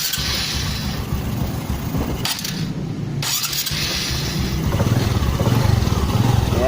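A motorcycle engine runs after its cam chain tensioner has been adjusted with a screwdriver, idling up close with a steady mid-pitched rumble. A brief gap near the middle interrupts it, and the sound grows slightly louder toward the end.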